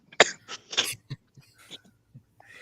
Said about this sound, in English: Sorry, I had a cough.